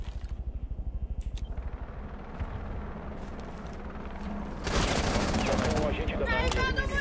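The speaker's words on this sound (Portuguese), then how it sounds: "Tiro veio de baixo" Rapid gunfire rattles through a firefight in the tactical shooter Rainbow Six Siege, with sharp repeated shots, a sustained burst of heavy fire and clicky handling noises, while players talk over it.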